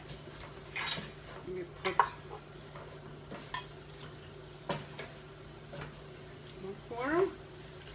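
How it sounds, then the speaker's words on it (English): Plant-based meatless loaf ingredients stirred in a bowl, with a few soft scrapes and clinks of a utensil against the bowl over quiet background hum while a person speaks briefly. "just carefully mix it"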